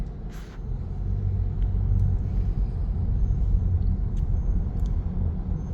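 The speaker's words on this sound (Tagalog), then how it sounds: "Grabe traffic sa Bursa, no?" Steady low rumble of dense road traffic in Bursa near an Ikea store, cars and buses idling and creeping past with a brief air-brake hiss, continuous and fairly loud from start to finish.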